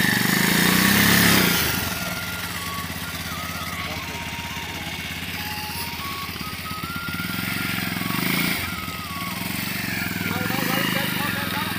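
Motorcycle riding along a snowy mountain track, its engine droning up and down with revving swells, close and fairly loud throughout.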